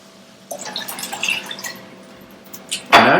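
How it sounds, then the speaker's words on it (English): Club soda, about 12 to 16 ounces, poured into a container of sangria: a steady fizzing pour with drips and glassy clinks, ending in a louder splashing gush. "Now we're gonna put the club soda in."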